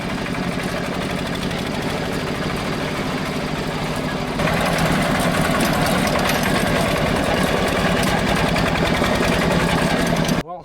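A Porsche Junior 108 tractor engine runs steadily with a fast, loud mechanical chugging. The pitch and intensity step up partway through before it cuts off abruptly at the end.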